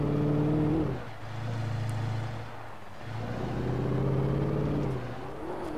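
A truck engine in Alan Wake, droning and revving while driving, rising and falling in pitch as it accelerates and eases off, loud and close with no other sounds.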